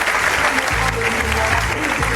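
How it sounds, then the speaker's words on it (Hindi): Loud applause from an audience at a direct-selling seminar honouring a speaker, a dense, continuous clapping roar with heavy low rumble from a sound system across the short stretch. "एक बार जोरदार तालियां हो जाए अपनी सर के लिए"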